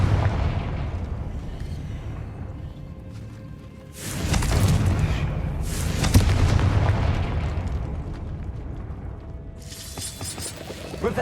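Confringo spell explosions in Hogwarts Legacy, several heavy booming bursts with long rumbling tails, the first two close together and another near the end, over a steady game ambience.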